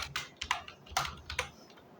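Keys clatter on a computer keyboard as Java code is typed, a quick irregular run of close, crisp clicks in small bursts with short pauses between.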